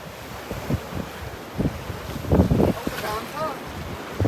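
Sea waves wash against an island shore in Japan, a soft rushing surf mixed with gusty wind buffeting the microphone while a person talks over it.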